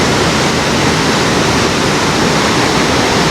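Li Phi waterfall on the Mekong River in southern Laos pours in a loud, steady roar of broadband rushing water, continuous and close with no pauses or voices.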